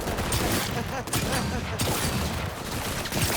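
Dense, continuous gunfire rattles in a firefight in the video game Cyberpunk 2077, with overlapping shots and bursts filling the whole stretch at loud, close level.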